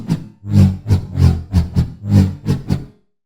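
Serum synth Bass High preset in a future bass style, with a rhythmic LFO and reverb filter, playing a choppy pattern of about eight pulsing, swelling bass notes with bright tops, alone and up close.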